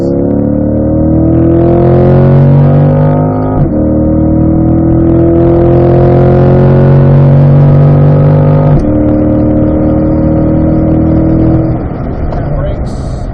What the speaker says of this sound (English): Roll back on the gas, accelerate smoothly.